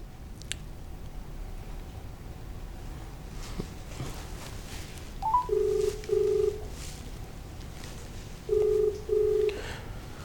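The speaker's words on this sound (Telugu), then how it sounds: "తెలంగాణ శ్యామ్కు ఫోన్ చేసి" Telephone keypad tones dial a number for a call, with short steady tone bursts in two small groups, three quick ones then a pause and two more, standing out over faint background noise with no talk.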